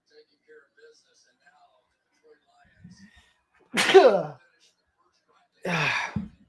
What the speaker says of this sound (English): Just quick little sneeze.